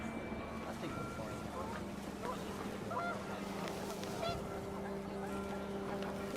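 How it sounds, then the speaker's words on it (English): Panicked geese honk in the video game What Remains of Edith Finch, with repeated scattered calls over windy ambience while a voice narrates throughout. "The wind picked up and panicked geese appeared and quickly went."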